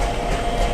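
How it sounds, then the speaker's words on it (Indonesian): Busy railway station at Purna Junction, India, a steady rumbling hum of trains and machinery with a faint tonal whine, continuous and fairly loud, without voices. "ini cukup riuh nih di stasiun Purna Junction"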